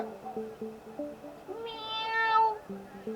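A cat gives one drawn-out, rising meow over a soft, repeating melodic tune in the background.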